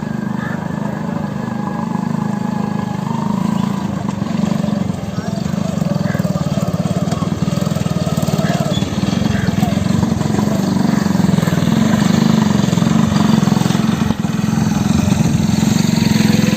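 A motorcycle engine drones steadily at close range in a crowded Karachi street beside a graveyard, a continuous mid-pitched hum lasting throughout with busy background noise.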